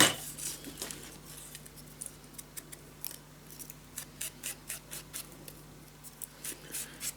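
Scissors snip through paper for a scrapbook album in a quiet room, a close, irregular series of sharp cuts spread evenly across the clip.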